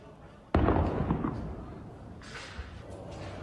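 A sudden, close explosion from an airstrike on the Iraqi-Syrian border bursts out with a sharp blast, then rumbles and echoes as it fades, followed by a softer crackle later on.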